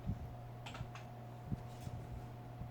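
Scattered keys tapped on a computer keyboard during a coding lesson, a few soft irregular clicks over a steady low electrical hum, with no voice.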